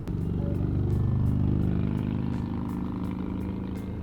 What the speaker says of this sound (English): So this guy on this Harley just pulled up behind us